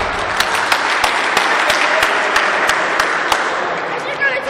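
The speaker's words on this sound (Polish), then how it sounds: "Brawa." Applause at an award ceremony for a youth indoor football tournament, a loud, close crowd clapping continuously with sharp individual claps standing out, and a voice talking over it.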